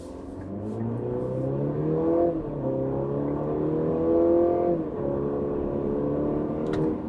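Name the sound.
2025 Cadillac CT5 accelerating hard with launch control in sport mode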